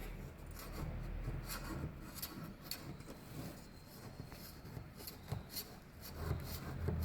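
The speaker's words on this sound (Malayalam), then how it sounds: "ഇനി നമുക്കിത് കട്ട് ചെയ്യാം." A knife saws through a soft baked beetroot cake, making faint, close rubbing and scraping strokes in an irregular rhythm against a quiet background.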